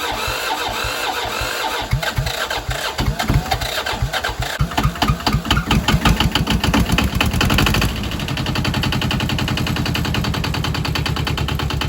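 A Yanmar 2210 tractor engine cranks in cold weather around 30 degrees, chugging several times before catching, then settles into a steady, loud diesel idle close by.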